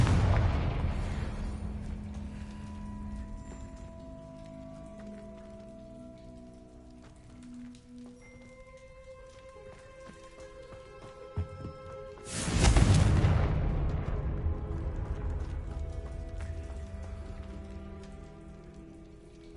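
A Confringo explosive spell goes off in Hogwarts Legacy, a sudden loud blast around the middle followed by a rushing, crackling rumble that decays slowly, with softer magical effects fading before it.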